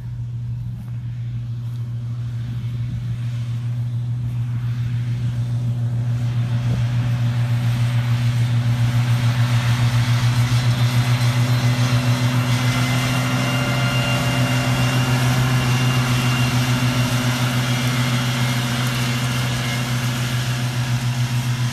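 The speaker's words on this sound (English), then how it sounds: "the 2 tractors working here" Two McCormick tractors mowing and raking grass in a field, a steady loud engine drone with a strong low hum running continuously throughout, no voices.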